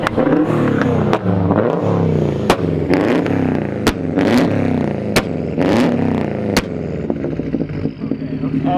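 A Subaru engine at Subiefest revs hard in sharp repeated bursts, loud and close, with clattering mechanical noise between the rises. The revving fades near the end.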